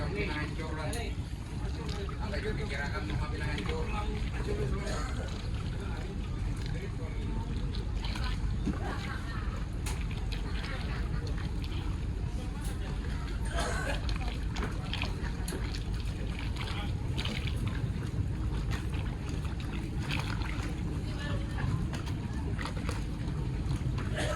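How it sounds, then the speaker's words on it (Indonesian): The passenger boat Barokah 3 sits at the Mahakam river dock, with a low steady engine rumble and lapping water running throughout while people speak nearby. "Ini ada kapal Barokah 3 Samarinda Malak juga."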